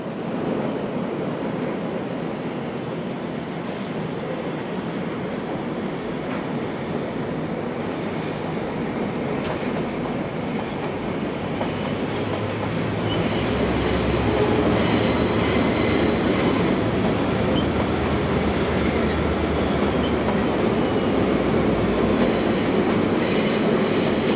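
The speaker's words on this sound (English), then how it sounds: "the empty train departs on its way home to Fielding" Steam locomotive F163 hauls an empty train through the Manawatu Gorge, a continuous heavy rumble of the passing train that swells louder about midway as it draws nearer.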